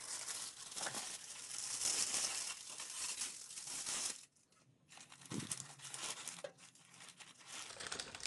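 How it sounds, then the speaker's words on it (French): Aluminium foil crinkles and tears as it is peeled off oven-roasted lamb, with loud continuous rustling for several seconds, a brief pause, then more softer crumpling. "J'enlève ces papiers aluminium"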